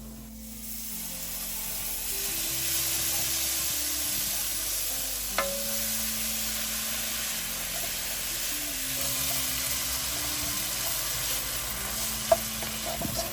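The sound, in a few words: chicken stock being added to a hot flour roux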